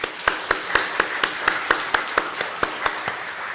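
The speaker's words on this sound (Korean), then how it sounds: "좀 박수해 주시기 바랍니다" Scattered, fairly even claps from a church congregation at a Christmas service, about a dozen sharp hand claps in a loose steady rhythm, moderately close, with no talking.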